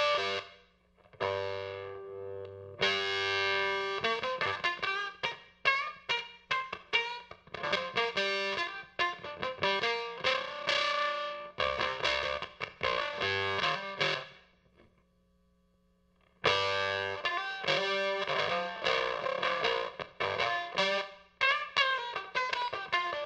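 Fiddle played through a Kangra fuzz pedal set to a scooped-mid response, giving buzzy, saturated phrases of plucked and sustained notes with two brief gaps of silence, close and fairly quiet overall, no talking.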